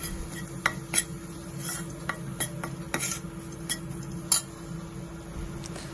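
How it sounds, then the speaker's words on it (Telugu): Flour is stirred briskly into fried garlic in a pan, producing repeated close metallic clinks and scrapes from the spoon over a soft, steady sizzle. "మైదా ఒక 2 స్పూన్స్ వేసుకొని ఫాస్ట్గా దాన్ని మిక్స్ చేయాలి, లేదంటే లమ్స్ వస్తాయి"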